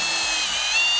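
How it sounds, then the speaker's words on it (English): A power drill bores a counterbore and pilot hole into a wooden roof truss while a roof-mounted solar array is being installed, giving a steady high whine that holds for just over a second, close and loud with no talking. "So we'll take our bit, we'll counterbore it, pre-drill"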